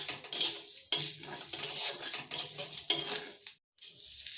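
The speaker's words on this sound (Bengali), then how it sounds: "আমি একটা ভাজা মশলা তৈরি করে নেব" Whole dried red chillies, coriander seeds and fennel seeds are dry-roasted in a pan and stirred with a metal spoon, giving repeated scraping, clinking strokes up close with short pauses between them.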